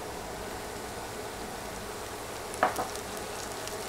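Garlic paste goes into hot oil with softened onions, producing a steady, close frying sizzle throughout, briefly punctuated by a small spatula clink near the end.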